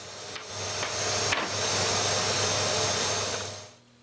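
A handheld trim router rounds over the edges of wooden face frame pieces in a workshop, a steady high whine and cutting hiss that holds for several seconds before winding down, with no talk.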